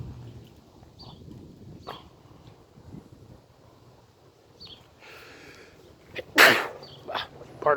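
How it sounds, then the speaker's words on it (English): A single sharp sneeze bursts out close by amid quiet outdoor garden ambience, with scattered faint rustles and small noises before it and a few softer sounds just after. "Pardon me, folks. Had to sneeze."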